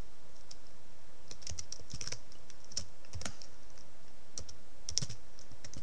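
Steady typing on a computer keyboard while C++ code is entered on an Ubuntu system, close and fairly quiet, with irregular bursts of key clicks separated by short pauses.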